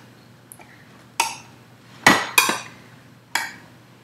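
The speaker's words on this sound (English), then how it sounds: "So I'm going to lift the pan up." A hot baking pan of cinnamon rolls is pried up with a knife: a few sharp metallic clanks and scrapes spaced a second or so apart, close and clear against a quiet kitchen background.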